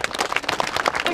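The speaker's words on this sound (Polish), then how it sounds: "Brawa dla chłopaków jeszcze raz." A short burst of clapping for the boys at a club picnic, a small crowd applauding close and loud with uneven overlapping claps.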